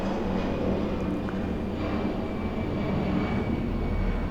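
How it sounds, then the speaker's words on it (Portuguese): An airplane passes overhead as a loud, steady engine roar that persists throughout, with no talk over it. "esperando passar o avião"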